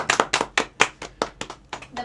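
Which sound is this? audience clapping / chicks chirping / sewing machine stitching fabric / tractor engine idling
audience clapping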